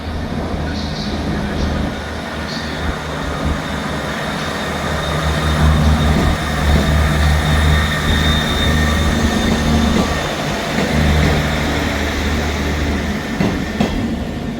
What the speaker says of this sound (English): Departing out now is the 1414 Scotrail service starting here at Dundee to Glasgow Queen